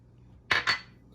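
Two quick clinks of dry yeast and sugar dropping into a bowl for pizza dough, close and brief, with quiet room noise around them.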